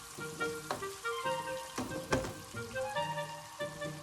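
Garlic and onion sauté in butter for a beef stew, producing a close, lively sizzle broken by repeated scraping and stirring strokes, sharp crackles rising and falling through the short stretch, no talk.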